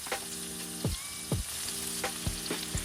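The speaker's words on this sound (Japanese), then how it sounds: "ここで 100ml のお水を少し垂らして弱めの中火で焼きます" Frozen pre-marinated food sizzles steadily in a frying pan with a splash of about 100 ml of water over medium-low heat, with a few sharp clinks and knocks against the pan along the way.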